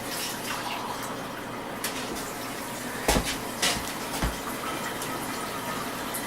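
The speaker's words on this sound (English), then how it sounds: "And I'm going to put some water in it right now." Water pours steadily into a cast iron skillet, a soft continuous splashing rush heard close by with a few small knocks of the pan.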